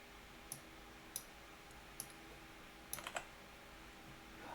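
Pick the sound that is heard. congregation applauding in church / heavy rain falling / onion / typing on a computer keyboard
typing on a computer keyboard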